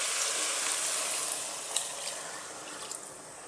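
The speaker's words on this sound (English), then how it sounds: "So we now need to get some water in there, or stock." Water gushes steadily into a pot of lentil, tomato and vegetable soup, a broad close splash and pour that eases slightly toward the end, with no talking.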